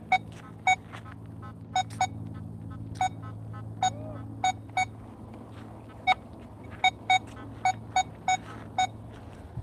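Metal detector beeping as it sweeps over a bottle cap, a steady train of short, sharp electronic beeps in uneven clusters over a low background hum, loud and close.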